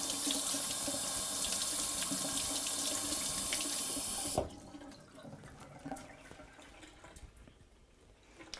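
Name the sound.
running tap water rinsing sorrel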